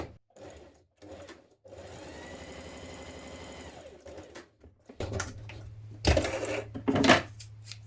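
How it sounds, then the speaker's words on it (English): A sewing machine ease-stitches the side edges of a jumpsuit's front lining in several short bursts separated by pauses, with one longer steady run, followed by louder rattling handling noises near the end. "Now ease stitch the side edges of your front lining piece"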